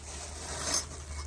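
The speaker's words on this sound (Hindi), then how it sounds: "मैं बैग खोल रही हूँ" A bag being opened up close, a soft rustling and a zipper-like rasp that swells briefly and fades, over low background hum.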